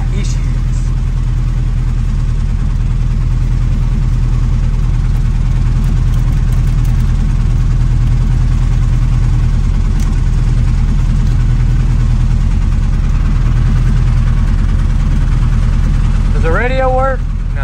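A car engine idles roughly with faults in cylinders one and two, a loud, close, steady low rumble with an uneven pulse, followed by a short vocal sound near the end.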